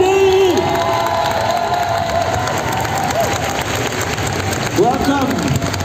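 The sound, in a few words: crowd applauding and cheering at convention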